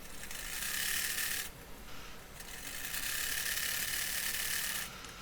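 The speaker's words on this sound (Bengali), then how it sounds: "এখন আমি বডির দুই পার্টের দুই অংশকে পুট সেলাই করে নিচ্ছি।" Sewing machine stitching two fabric body pieces of a dress together, a steady close mechanical whir running in two long bursts with a brief pause between, no voices.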